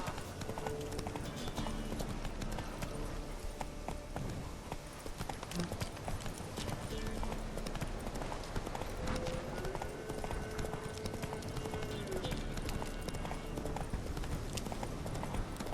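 Roach the horse from The Witcher 3 galloping, with a rapid, continuous clip-clop of hooves close by and loud under background music, with a faint voice and brief tonal sounds in the middle.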